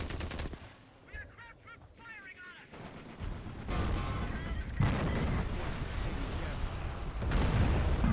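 Tank gunfire and armor-piercing shell bursts in the Company of Heroes World War II Normandy campaign, several heavy booms with rumbling battlefield noise building over the second half, mixed with game sound effects.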